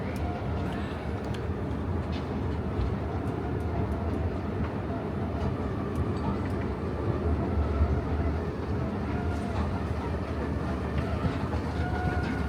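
A Haramain high-speed train rumbles steadily at the Medina station platform, a continuous low mechanical roar with faint rattles and some distant voices of people in the background.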